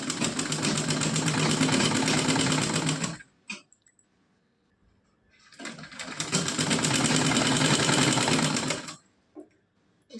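A sewing machine stitches a Laddu Gopal doll dress in two loud, steady runs of rapid whirring, with a short pause and a few handling clicks between them.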